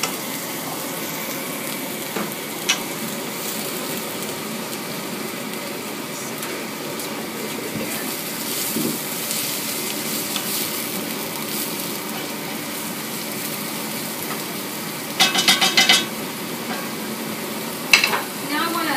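Tomatoes and garlic sizzle steadily in a hot pan, a constant frying hiss with a few sharper scraping clicks from stirring near the end.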